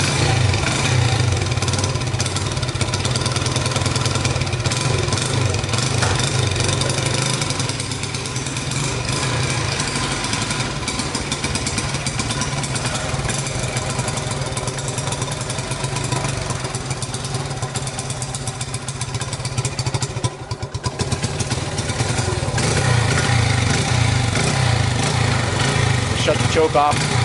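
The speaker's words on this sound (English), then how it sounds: "Listen to the engine." A 1977 Honda XR75 motorcycle engine idles steadily and loudly close by after a first-kick start, a continuous buzzing putter that holds throughout with only slight wavering.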